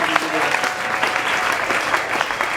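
Church congregation applauding at a Rwandan gospel choir anniversary concert, a steady wash of clapping that runs the whole moment without a break, close and dense.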